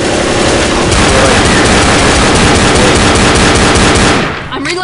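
Loud, sustained automatic gunfire from the zombie shooter game Left 4 Dead, a dense unbroken stream of rapid shots that fills the clip before cutting off near the end.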